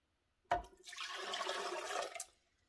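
Water poured into a blender jar for a fruit smoothie: a sudden splash, then a steady rushing pour for about two seconds before it stops, close and alone.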